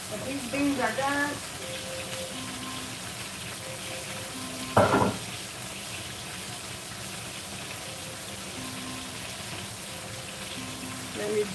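Frijoles puercos beans fry steadily in a pan with a soft, constant sizzle. A louder stirring scrape comes midway, and brief faint talk is heard near the start.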